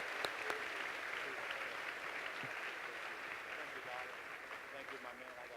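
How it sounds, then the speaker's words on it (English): Sustained audience applause at a leadership conference event, a dense, steady wash of many hands clapping across a large crowd, moderately distant, with occasional cheers and voices mixed in. "Let's give them a big round of applause,"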